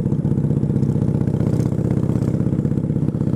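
A Harley Davidson chopper motorcycle engine runs close by with a steady, rapid low thumping pulse, held at an even idle-like pace throughout.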